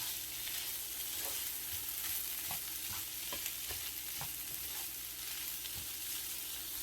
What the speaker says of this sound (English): Fry a potato for about 1 minute and ready to add the corned beef. Just mixing them together.